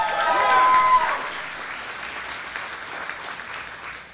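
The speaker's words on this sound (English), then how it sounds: "Give me a round of applause." An audience at a game-development awards ceremony claps and cheers, loudest at the start, then the applause thins and fades to a softer patter.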